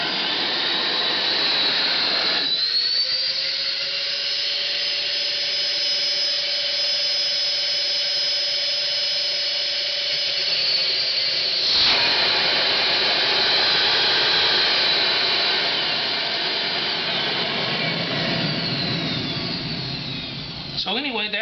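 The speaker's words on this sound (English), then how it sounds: "I'm going to go ahead and turn this on, and then we'll get a shot of the vacuum gauge" Vacuum motors of a Mytee 7303LX Version 2 carpet extractor run with a loud, steady, high-pitched roar, shifting in pitch partway through as the load changes, with no voices heard.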